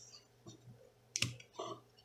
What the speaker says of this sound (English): And I have connected a switch. I could use a micro switch, but I like the sound of this one better.